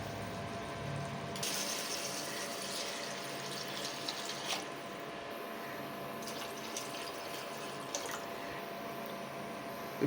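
Water streams steadily into a pressure cooker, a soft continuous splashing pour with a few faint clinks, fairly quiet and with no talking.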